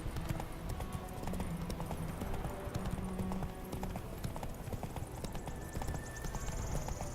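Roach, the horse in The Witcher 3 video game, clip-clops along with steady, rhythmic hoofbeats that stay close and constant over a dense, continuous game soundscape, with a faint whinny nearby.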